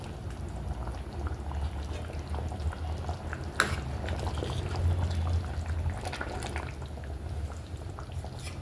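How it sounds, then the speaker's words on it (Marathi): A pot of chicken curry bubbles steadily at a low simmer, soft continuous gurgling with an occasional small pop, heard close and fairly quiet. "भाजी छान उकळली आपली"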